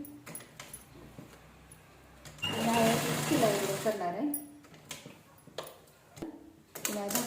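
A sewing machine runs a short burst of stitching through leftover fabric scraps from blouse making, a close whirring rattle lasting under two seconds, surrounded by clicks, handling sounds and someone talking.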